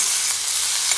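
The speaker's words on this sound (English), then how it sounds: "Just saute this." Cauliflower sauteing in a hot pan, a bright, continuous hiss of frying with faint stirring underneath, steady and close.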